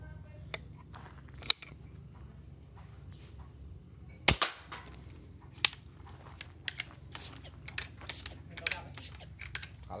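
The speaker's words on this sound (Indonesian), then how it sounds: "Untuk uji coba tembak senapan ini mungkin nanti cuma ada di jarak 10 meteran" An air rifle fires test shots at a can from about ten metres, a few sharp snapping cracks and metallic clicks standing out over a steady low hum and faint background noise.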